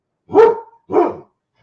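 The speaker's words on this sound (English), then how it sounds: "that's only the second time he's barked in a week" A single dog gives two short, loud barks close by, about half a second apart, followed by silence.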